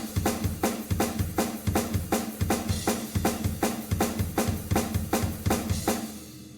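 Programmed drum kit triggered through the RIA Samplematic stock MIDI plugin, all drums playing together in a steady, dense loud groove of regular punchy kick and snare hits with bright cymbal wash throughout.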